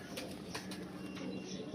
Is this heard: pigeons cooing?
yes